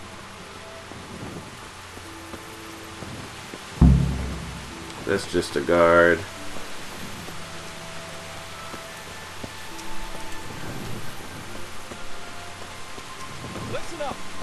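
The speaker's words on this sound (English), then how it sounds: "It's kind of raining." Steady rain falling on a dark night in the medieval role-playing game Kingdom Come Deliverance, with faint distant rumbles, one brief loud low thump and a short burst of a voice speaking over the continuous patter.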